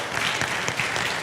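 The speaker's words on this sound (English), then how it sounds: "Jonathan, round of applause for Jonathan, my producer." Brief burst of audience applause for a producer at a talk on the Orthodox Church, dense steady clapping held at an even level for about a second with no voices over it.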